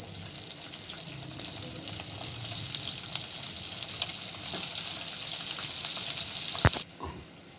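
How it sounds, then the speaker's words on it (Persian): Shrimp fry in hot oil with a loud, dense, continuous sizzle and crackle, and a sharp clink just before it fades out. "بعد میگوها رو به مدت 2 الی 3 دقیقه میذاریم تا خوب سرخ بشن."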